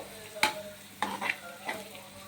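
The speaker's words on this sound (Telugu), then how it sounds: "బాగా మిక్స్ చేయండి" A ginger-garlic spice mixture in a curry pan is stirred with a few distinct scraping strokes over a soft, quiet sizzle.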